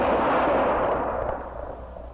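A single rifle shot rings out loud and close, its sharp blast trailing into a rolling echo that fades over about two seconds.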